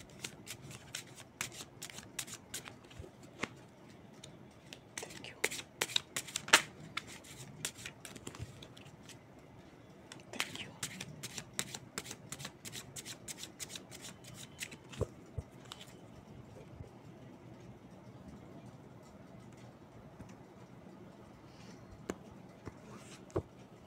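Tarot cards shuffled by hand in a quiet indoor setting, giving repeated crisp riffling bursts with brief pauses between them, close and moderately loud with no talking.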